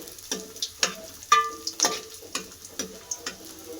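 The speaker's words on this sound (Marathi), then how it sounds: "आता आपण याच्यात बोंबील भाजून घेऊ चांगले" Bombay duck (bombil) fish fries in hot oil in a pan, a close sizzle punctuated by a regular series of light taps and scrapes, with no one talking.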